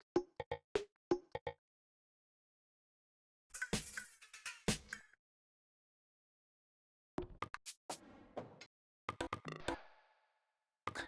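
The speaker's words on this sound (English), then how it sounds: "a folder here on my computer, which is full of like percussion loops that sound like this." Percussion loops from a computer sample folder played back in Ableton, heard as several short bursts of crisp, dense hits separated by silent gaps.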